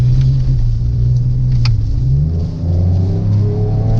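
A 400-horsepower Ford Ranger Raptor pickup driven at full throttle on Namibian desert dunes, its engine a loud, close, sustained roar with low rumble and a slight dip before building again; no voices.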